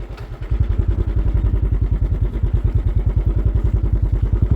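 A motorcycle engine thumps steadily at close range, its rapid regular pulses holding an even rhythm while riding.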